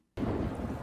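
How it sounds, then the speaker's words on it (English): A sudden, loud crack of thunder from a lightning strike breaks the silence, followed by a dense, sustained rumble like heavy rain, all in under a second, with no talking. "That's the sound of lightning."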